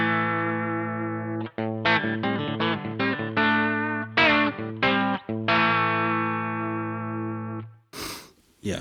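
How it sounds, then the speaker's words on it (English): An electric guitar through a True North Tweed Junior overdrive pedal plays a run of gritty, sustained chords and notes with a slight driven edge, fairly loud and continuous before a brief noisy burst at the end. "Really great overdrive pedal."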